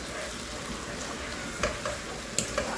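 Adobong kangkong, water spinach in a vinegar-based adobo sauce, is stirred briefly in a frying pan. A steady sizzle runs under a few soft utensil scrapes and clinks close by.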